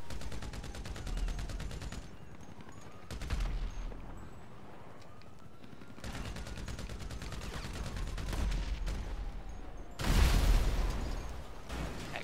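Explosions and gunfire from a Fortnite match at an airport, with repeated bursts of shots and booming blasts through the clip, the loudest blast near the end.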